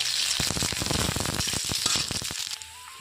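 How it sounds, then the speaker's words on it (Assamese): Onions frying in hot oil in a kadai, a loud, dense sizzle with rapid crackling pops throughout, easing off near the end. "পিঁয়াজখিনি অলপ সময় মই ভাজি ল'ম।"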